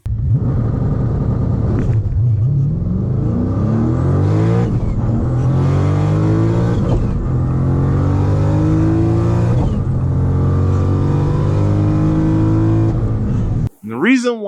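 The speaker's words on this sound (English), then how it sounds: "a 4-second 60 to 130 and high 3-second 100 to 150 monster of a twin turbo Hellcat on a roll" Manual twin-turbo Dodge Hellcat accelerating hard, a loud deep engine roar rising in pitch through several gear changes with brief dips between shifts, ending in an abrupt cut and a short burst of other noise.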